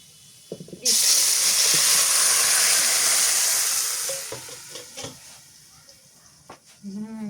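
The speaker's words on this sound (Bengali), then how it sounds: "পেঁয়াজ লাল লাল করে ভাজা হয়ে গেছে এবার খিচুড়ি দিয়ে দিই" Khichuri is added to a hot pan of browned onions with a loud, steady sizzle that fades after a few seconds, followed by scraping and clinking as it is stirred.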